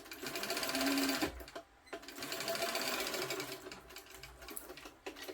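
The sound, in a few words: sewing machine stitching closed the bottom of a bag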